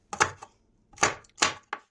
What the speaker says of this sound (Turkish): Ardından yeşil biberi de ince ince doğruyoruz